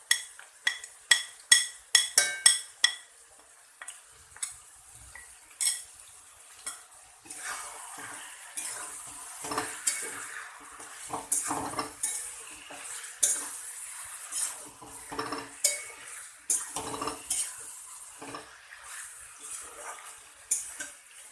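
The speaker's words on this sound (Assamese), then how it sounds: "দহ 15 মিনিট ভাজিব লাগিব ভালকে।" Spices and meat masala for an Assamese chicken curry fry in a pan, opening with rapid metallic clinks of a spoon on the pan, then a soft sizzle with repeated scraping stirs.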